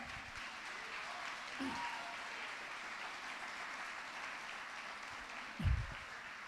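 A church congregation claps in a faint, steady patter of applause under room noise, with a couple of brief louder thumps, one near the end.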